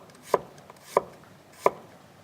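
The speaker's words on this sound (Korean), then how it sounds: "마늘을 얄팍하게 편으로 썰어서 준비해 주세요" Three evenly spaced knife strokes on a cutting board as garlic is sliced thin, crisp close taps about two thirds of a second apart with quiet between.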